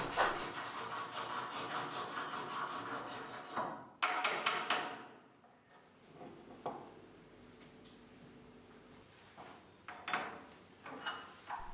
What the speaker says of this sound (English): The bone carver files a bone plate.